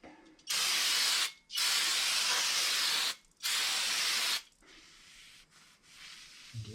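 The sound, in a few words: spraying cleaner to hose off brake parts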